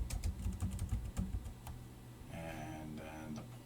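Keys on a computer keyboard are tapped in quick, uneven bursts of crisp clicks, quiet and close, giving way to a softer hum with faint clatter toward the end.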